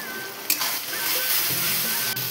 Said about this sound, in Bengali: এখন বেটে রাখা মশলাটা দিয়ে দেবো।